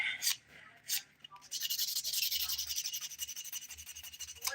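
Close, steady rasping of nails being filed with a 180 grit file, quick repeated strokes running continuously after a couple of brief scrapes at the start, with faint talk underneath.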